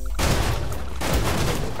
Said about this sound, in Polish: Jak wybuchają te samochody